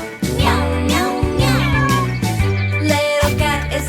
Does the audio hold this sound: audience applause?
no